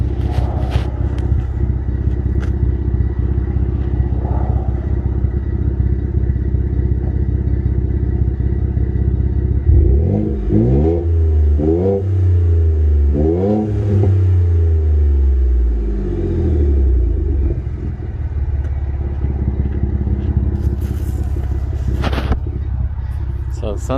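2016 Ford F150 with the 2.7L engine and a 4-inch exhaust with 5-inch tip, idling low then revved in several sharp bursts recorded close to the pipe, with a deep rumble between blips.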